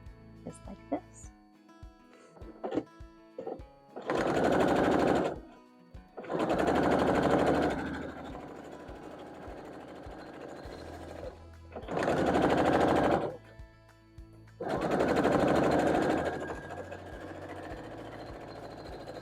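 A sewing machine stitches quilt mushroom blocks in four loud bursts of fast whirring, each a couple of seconds long, separated by quieter gaps with fabric handling and a voice talking.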